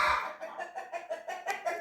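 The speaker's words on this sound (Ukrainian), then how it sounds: "з тими курами нічого нормально не запишеш" Chickens clucking close by on a farm, a quick run of about eight short, evenly spaced clucks over two seconds, with no voices.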